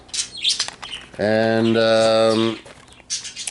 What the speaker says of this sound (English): Here's my birds